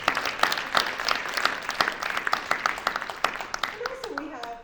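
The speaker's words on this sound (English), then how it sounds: "Let's give Adam a round of applause." A live audience at a university innovation contest claps in a steady burst of applause, many hands patting rapidly and fairly close, then fading as a voice starts speaking near the end.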